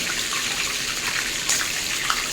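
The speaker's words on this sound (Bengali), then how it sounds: "এইভাবে জল ঝালিয়ে উঠিয়ে রাখবো" Tap water streams steadily while chicken is rinsed for a coconut-milk musallam, a close, continuous gushing splash for a couple of seconds with no talking.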